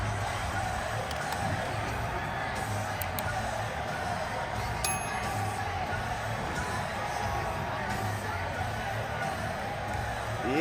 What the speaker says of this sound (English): Crowd goes wild, man.